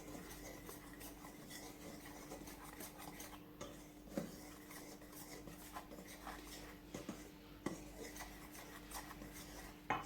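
Fruit cake ingredients for a Jamaican sorrel fruit cake being stirred together in a bowl, a steady scraping and rubbing with occasional light utensil clinks against the bowl, close and fairly quiet, with no talking.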